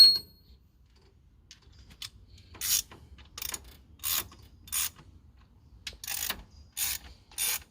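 A ratchet wrench tightens cylinder head bolts on a 22R-E engine during a top-end rebuild, producing about nine separate bursts of sharp ratcheting clicks at roughly even intervals, close and loud against a quiet background.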